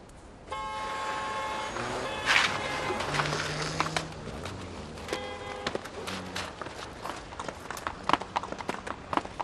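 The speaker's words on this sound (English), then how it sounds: "Slow down for the horse." Horse hooves clip-clop along a road at a steady walking rhythm, mixed with a car horn's tooting tones and passing traffic in an outdoor country setting.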